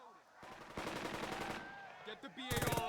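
Automatic and rifle gunfire from a World War II squad battle in the tactics game Burden of Command: dense bursts of rapid shots, a lull with scattered single cracks, then a loud final volley close up.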